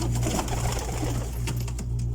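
Pigeons kept by a breeder of flying and breeding pigeons in Saudi Arabia coo in low repeated throaty tones, close by and steady, with some faint rustling and background noise around them.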